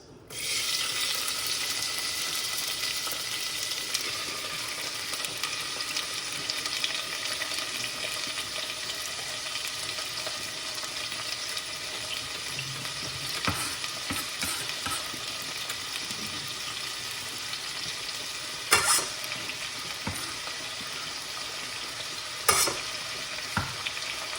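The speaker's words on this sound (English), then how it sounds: "Vegetables in the frying pan, guys." Vegetables sizzle steadily in a hot pan, a continuous close crackle with occasional scraping clicks of stirring.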